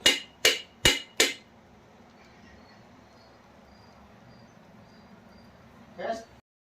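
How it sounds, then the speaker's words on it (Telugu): Four sharp pounding thuds in quick, even succession as nuts are crushed, then a quiet pause and a softer knock near the end. "కాయలు దంచి గిన్నెలో పెట్టుకుని"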